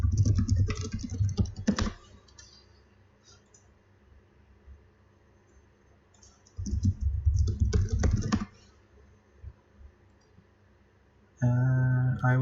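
Fast typing on a computer keyboard comes in several separate bursts of rapid, close clicking keystrokes, with quiet gaps between them and no speech.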